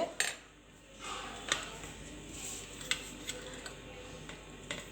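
Spoon stirring a rice-free curd rice dish in a pot, giving a few sparse, light metallic ticks and scrapes against the pot at irregular intervals over quiet background noise.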